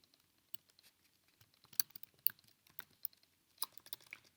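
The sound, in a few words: typing on a computer keyboard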